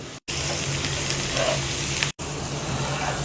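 Onions frying in a pan at home, a steady broadband sizzle with a low hum beneath, continuous apart from two brief dropouts.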